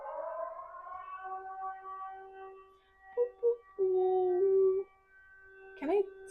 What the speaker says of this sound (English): I hope this is the end of the air siren because it will be short.